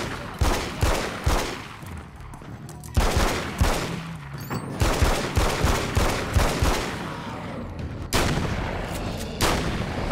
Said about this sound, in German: Wir müssen halt nur immer weiter in den Kopf schießen.